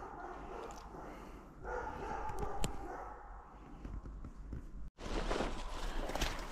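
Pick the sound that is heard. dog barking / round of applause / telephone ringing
dog barking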